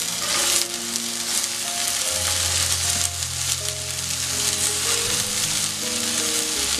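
Chopped potatoes fry in a pan with a loud, close, continuous sizzle and occasional stirring scrapes, while steady tonal background music plays underneath.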